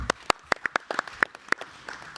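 Scattered hand claps from a small audience at an Internet Governance Forum 2025 workshop session, a dozen or so separate sharp claps in an uneven rhythm, fairly close, with no talking over them.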